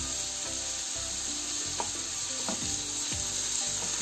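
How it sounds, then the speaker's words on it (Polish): Meat sizzles loudly and steadily in a hot pan as a spatula scrapes and knocks against it in a regular stirring rhythm. "smażymy dotąd, aż mięso nie będzie surowe."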